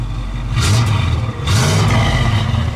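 A 1963 Buick Electra 225 engine rumbles steadily at idle, close by, with a low throbbing single-exhaust note and a slight swell partway through.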